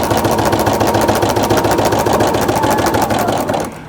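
A sewing machine runs continuously while stitching patchwork, giving a fast, steady mechanical whir with rapid needle ticking, close and loud, until it slows and stops at the end.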